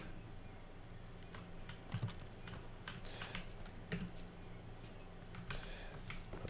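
Computer keyboard keys clatter in quick irregular bursts at close range, steady and moderately loud through a PC session of Bugsnax, with faint game audio and no voices over it.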